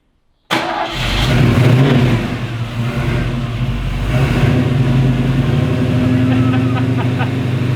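An engine cranks and catches abruptly, then revs loudly and settles into a deep, throaty rumble that holds steady and close.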